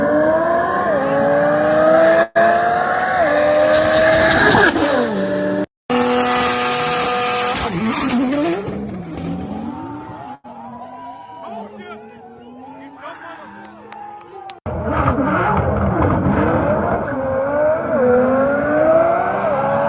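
Race cars, an Audi TT RS and a Nissan GT-R, roar loudly through rising and falling engine revs and gear changes, with brief cuts and a sharp drop in the middle before the engines surge back in.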